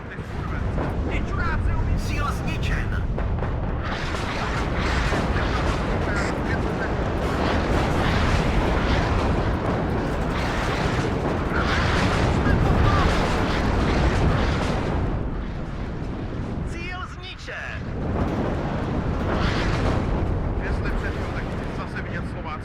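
Continuous artillery fire and explosions pound away in the WARNO battlefield, a dense, roaring barrage of overlapping booms that barely lets up, with a couple of short dips.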